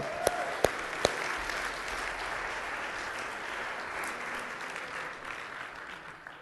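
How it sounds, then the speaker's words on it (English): A church congregation applauds during a sermon, a faint, distant patter of clapping that holds steady after a few sharp knocks at the start. "Give her a round of applause."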